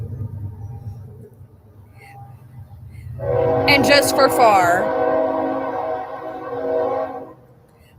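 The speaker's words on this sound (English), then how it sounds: "Ah, there's that train." A passing train sounds its horn in a loud, sustained multi-tone blast lasting several seconds that rises over the low rumble of rolling cars, with a voice speaking briefly beneath it.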